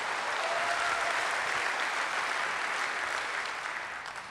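A public affairs audience in Long Beach gives a big round of applause, a thick, sustained crowd clapping that holds steady and then gradually fades away near the end.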